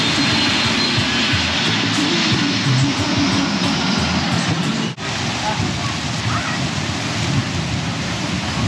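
A jet airplane roars low over Maho Beach on St Maarten while plane spotting, a loud sustained engine rumble and wash that fills the whole stretch, with a brief dip midway and crowd noise around it.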